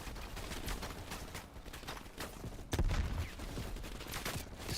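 Dense gunfire in the video game Call of Duty Black Ops, rapid overlapping shots and bursts at a distance, fairly faint and continuous with a sharper crack near the middle.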